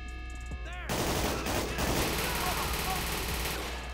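Rapid automatic gunfire from a weapon in GTA 5 during a police chase, a dense burst that starts abruptly and rattles on steadily at a high rate of fire, close and loud, with other game sounds underneath.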